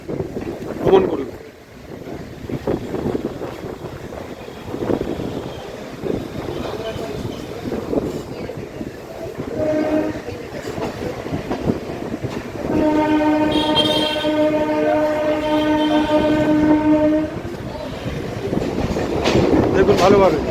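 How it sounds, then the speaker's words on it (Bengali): The Chakrarail circular suburban train in Kolkata rumbles along beside the Ganges, with wind and wheel noise throughout and a long, loud sustained horn blast in the latter half. "বলতে গেলে পুরো গঙ্গার গা ঘেঁষে ট্রেন যাচ্ছে।"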